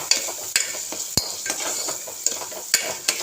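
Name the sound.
sautéing beef with turmeric and garam masala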